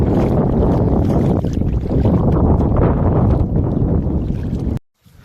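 Strong wind gusting over open water at the Methla dam, a loud, continuous buffeting roar close to the microphone that runs steadily and then cuts off abruptly near the end.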